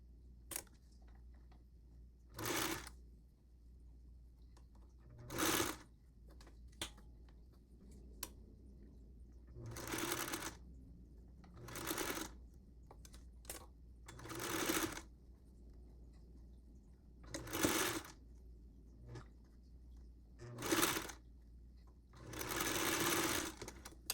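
A sewing machine stitches a quarter-inch seam along a doll bodysuit cuff in short separate bursts, each lasting about a second, with quiet pauses and faint handling clicks between them.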